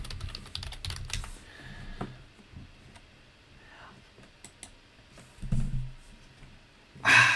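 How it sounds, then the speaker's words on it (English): Typing on a computer keyboard, light scattered key clicks in short bursts, fairly quiet and close, with a louder clatter near the end. "I'm just very slow typing"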